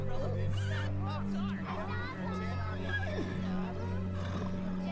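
Horse neighing in The Sims 3, a few whinnies rising over steady game music and someone talking throughout.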